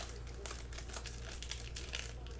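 Crinkly tearing and rustling while a box of 2020 Topps Finest baseball cards is ripped open, several short bursts over a steady low hum, fairly quiet.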